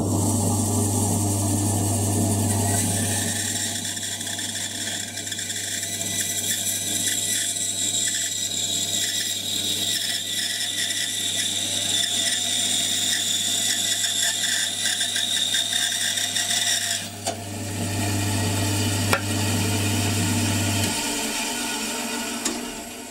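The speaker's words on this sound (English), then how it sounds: "I have a bandsaw which is considerably quicker, and that's what we're going to use just to chop it off." A bandsaw cuts through a wooden guitar neck blank with a steady motor hum and a rasping whine from the blade in the wood that runs for about twenty seconds. The motor then winds down and stops.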